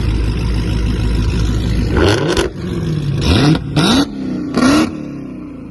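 Tuned catless Dodge Scat Pack engine revving, several loud close blips that rise sharply in pitch and drop back to a deep idle rumble between them.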